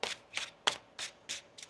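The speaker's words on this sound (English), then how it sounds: "One more shuffle here." A tarot card deck being shuffled by hand: six quick riffling bursts of papery card noise at a steady rhythm, close and fairly quiet, with no talking.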